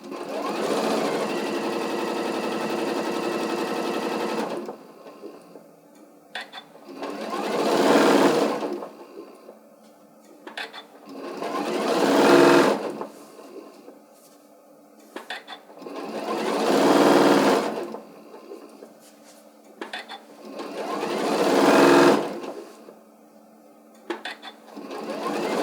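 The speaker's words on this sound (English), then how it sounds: "just go ahead and just sew this on, just following the curve around the bottom." A sewing machine sews a curved seam around the bottom of a fabric Santa hat in five or six loud whirring bursts separated by pauses with small clicks and fabric handling, close up.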